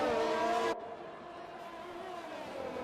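Race cars in a sim racing game at Monaco, an engine whine that suddenly drops away after a moment, leaving a quieter steady motor drone in the background, fairly faint overall.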